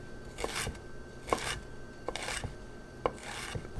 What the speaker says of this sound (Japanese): そしたら向きを変えて端から刻んでいくとみじん切りになります。